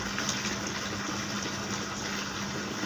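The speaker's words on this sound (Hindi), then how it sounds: "ये पानी भरा हुआ, आज इनको मैंने पानी लगाना है" Water poured from a filled container onto tomato plants in a home garden, a steady close gushing and splashing that runs unbroken from start to end.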